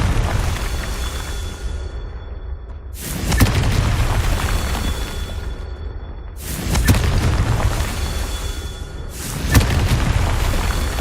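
Confringo explosion spell blasts in Hogwarts Legacy, three loud booming bursts spaced a few seconds apart, each hitting hard then tailing off into rumbling debris over a steady background hum.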